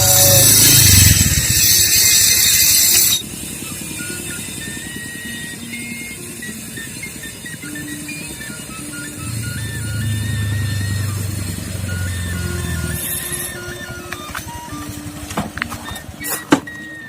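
A motorcycle engine hums steadily as the bike rides off, following a loud burst of noise at the start, with a brief rise in revving midway before fading.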